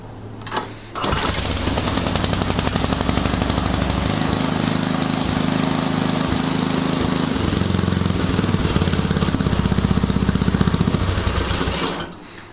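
A Toro Power Max snowblower fitted with a new 2010 Briggs & Stratton engine runs steadily, loud and close, its even, rough drone holding for about ten seconds before cutting off at the end.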